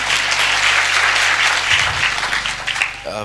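An audience in a church service applauds steadily, the dense clapping sustained throughout and tapering slightly at the end, with a voice briefly audible over it near the close.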